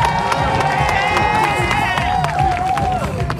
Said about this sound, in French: nous remercions tout le monde et nous applaudissons,